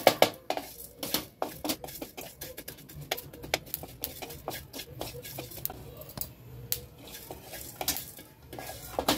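Fenugreek seeds stirred and dry-roasted in a pan for a Maharashtrian homemade masala, giving a steady run of close scraping and light metallic clinks of a spoon against the pan, with a faint sizzle underneath.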